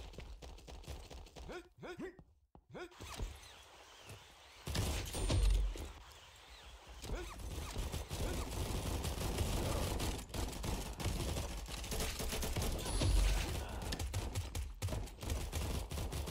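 Rapid, clattering gunfire from the Combat Master shooter game crackles in dense bursts over a steady, loud game din. Brief pauses break the shooting and a voice talks along with it.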